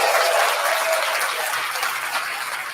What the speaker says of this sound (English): You get that applause and everything, man.